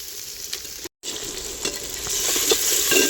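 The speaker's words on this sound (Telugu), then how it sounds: "ఇప్పుడు ఇందులో టమాటా యాడ్ చేస్తున్నాను" Tomatoes frying in a pan for chicken biryani are stirred, giving a steady crackling sizzle with light scraping strokes and a brief dropout early on, close and moderately loud without talk.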